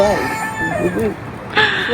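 Wild chickens in Malta, with a rooster crowing in short bursts nearby, partly under a person talking, all fairly loud.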